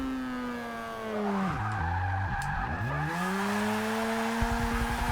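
Tires squeal on a rotary-engined Toyota wearing narrow 175mm tires as it slides in third gear in Forza Motorsport 6, a long loud screech with the engine pitch dropping and climbing back as it rides the slide, no talking.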